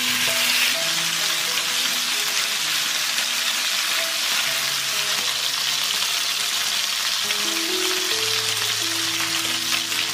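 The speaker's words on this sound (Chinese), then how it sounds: "先把排骨倒进来煎。" Pork spare ribs marinated with salt, starch and jasmine tea pan-frying in hot oil, a dense continuous sizzle holding steady throughout, with faint sustained tones in the background.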